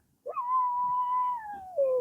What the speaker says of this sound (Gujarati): કૂતરું ભાઈ અવાજ આવતો હે તમને